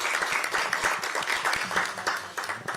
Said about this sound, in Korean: 박수 한번 치고 시작하죠.